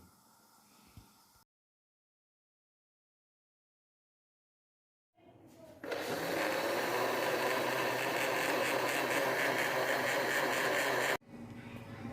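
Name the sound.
blender grinding rice with milk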